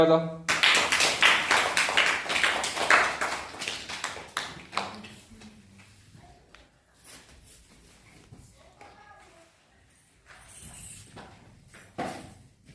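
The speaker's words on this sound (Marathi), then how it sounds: "टाळ्या" Children clapping at a primary school Raksha Bandhan celebration: a dense burst of rapid, close applause that fades after a few seconds into scattered taps and quiet voices.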